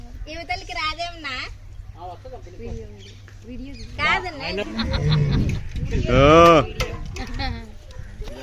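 A deep, rumbling white tiger roar swells midway, close and loud, with excited talking before and over it, at a zoo in Visakhapatnam.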